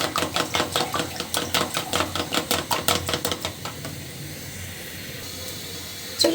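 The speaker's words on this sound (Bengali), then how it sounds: "ডিমটা খুব সুন্দর করে ফেটিয়ে নিব লবণ আর হলুদ দিয়ে।" Two eggs with salt and turmeric are whisked briskly in a bowl, a close, rapid rhythmic clatter of regular strokes that stops partway, leaving quiet room tone.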